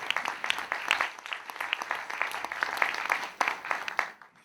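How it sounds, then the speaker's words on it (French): An audience at an evening event with film critic Michel Ciment applauds him, a sustained crowd of clapping hands with scattered sharp claps standing out, fading slightly at the close. "On peut applaudir Michel."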